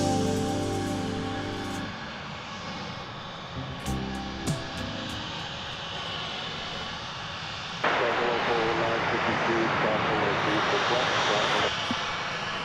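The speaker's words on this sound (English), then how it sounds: "Japan Airlines Flight 12 coming in from Haneda. This is going to be a 777 arriving." A Japan Airlines Boeing 777 arriving at DFW airport roars with a broad, steady jet rumble that swells partway through and holds loud, heard from a distance outdoors under some background noise.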